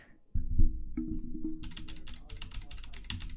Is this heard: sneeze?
no